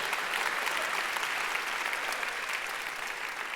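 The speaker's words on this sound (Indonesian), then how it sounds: "Sekarang waktu yang tepat untuk tepuk tangan" An audience claps steadily and densely throughout, a loud, sustained wash of applause from a crowd with no break and no speech over it.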